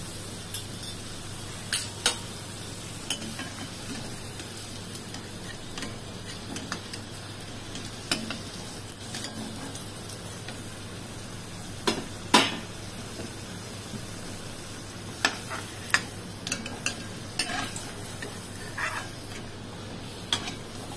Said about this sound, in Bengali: আলুগুলোকে আমি একদম লাল লাল করে ভেজে নিচ্ছি।